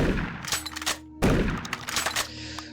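Shotgun blasts from Doom 3, two heavy booming shots about a second apart, each followed by a mechanical pump rattle and short decay, loud and close.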